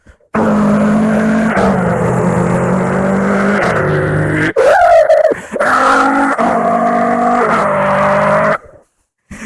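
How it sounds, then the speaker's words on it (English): A loud, sustained car engine in a video game revs with shifting pitch, briefly dropping and surging again, then cuts off near the end; no talking. "This is the sound of an engine."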